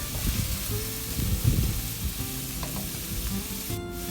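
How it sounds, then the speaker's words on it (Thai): Minced pork stir-fried in a pan with garlic gives a steady, close sizzle with scraping stir strokes throughout. "เราก็ใส่หมูสับลงไปผัดเลยจ้า หมูสับของเราผัดให้สุกเลยนะ"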